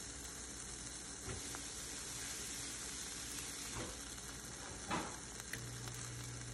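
A barbecue jerk butternut squash wrap sizzles quietly in a hot pan with a soft, steady frying hiss and a few faint taps of movement, heard close but low.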